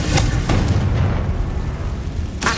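Confringo fire-blast spell explosions in Hogwarts Legacy, a heavy booming blast with a rumbling low tail, sharp bursts near the start and a fresh impact at the end.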